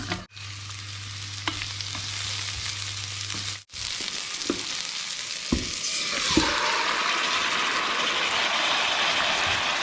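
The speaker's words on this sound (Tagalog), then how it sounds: "We're gonna fry the onion." Onion fries in olive oil in a pan with a dense, continuous sizzle and occasional scrapes and knocks of a utensil. A steady hum plays early on, and the frying swells louder after a sharp clatter midway.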